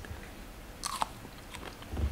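Crunchy snake fruit being bitten and chewed, a single crisp bite followed by a few soft chewing crunches, close and fairly quiet.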